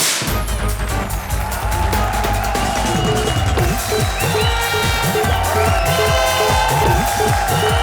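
Applause and cheering from a comedy-show studio audience, greeting the challengers; the sound is loud and dense, with a steady mass of claps and crowd noise running the whole time.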